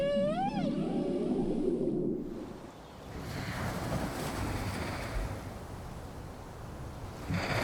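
Male whales singing in the ocean off Baja: a rising and falling moaning call at the start, then wind and surf noise taking over for the rest.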